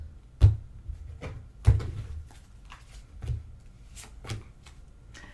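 A deck of tarot cards being cut and shuffled close by: two sharp card slaps, then a run of softer riffling and tapping bursts spaced irregularly, with no talking.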